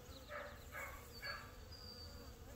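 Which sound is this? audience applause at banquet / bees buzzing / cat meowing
bees buzzing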